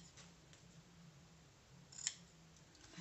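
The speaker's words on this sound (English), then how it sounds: "get the fabric scissors and just trim it down" Fabric scissors trim ribbon during a papercraft project with Stampin' Up! Give it a Whirl dies, giving a single quiet snip near the middle over a low background hum.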